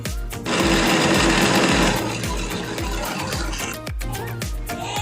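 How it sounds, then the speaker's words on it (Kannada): A mixer grinder whirs loudly up close, grinding coconut, green chilli, tamarind, cinnamon, cloves and roasted gram with water, its motor surging in short pulses with rattling jar noise. "ನೀರನ್ನು ಸೇರಿಸಿ ರುಬ್ಕೋಬೇಕು ಇದನ್ನು"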